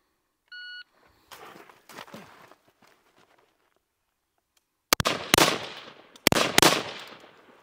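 A shot timer beeps once, then the shooter moves from standing to prone with rustling and shuffling before two loud, close rifle shots about a second apart on a rifle drill range.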